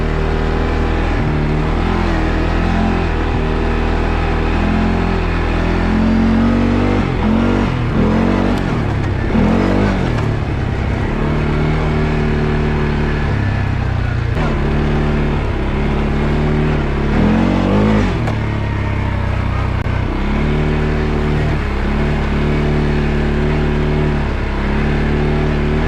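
A 2022 CFORCE 500 ATV rips along a dirt road, its engine droning loudly throughout with repeated surges of revving and throttle changes.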